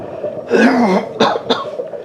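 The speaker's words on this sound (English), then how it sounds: "Yes, I require clearing my throat occasionally." A man gives a short throat-clearing rasp followed by two quick, sharp coughing hacks, close and clear in a quiet room.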